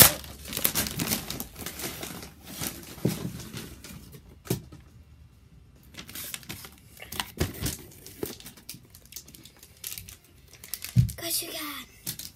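Wrapping paper crinkles and tears in bursts as a Christmas present is unwrapped close by, with short crackling rustles between quieter pauses and a voice speaking at points.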